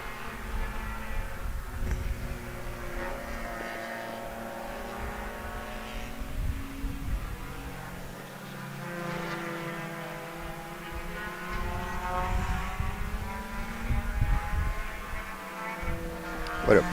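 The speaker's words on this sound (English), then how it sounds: "what a beautiful looking race car" A race car circuits Sebring as a far-off engine drone, its pitch sweeping up and down through gear changes, fairly faint and continuous with no talking.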